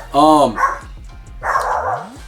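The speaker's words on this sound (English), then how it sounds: "those are my dogs" Several pet dogs bark loudly and close by indoors in a few quick, sharp yaps.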